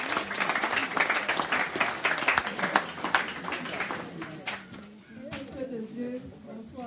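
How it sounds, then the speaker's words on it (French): A church congregation applauds after a health testimony, crisp clapping for about four seconds that then fades out as a voice begins speaking over the dying claps. "Applaudissez pour ce témoignage de la santé."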